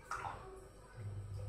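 Hands are rinsed under plain water after a sugar-and-salt scrub during a home manicure, giving a faint splash and trickle under low background noise.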